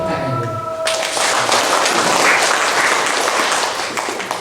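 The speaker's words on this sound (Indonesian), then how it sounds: "Karena itu kita tepuk tangan dulu." Audience at an Indonesian regional religious affairs office ceremony breaking into applause after a tonal chime or voice fades, dense clapping swelling and holding steady before easing slightly at the end.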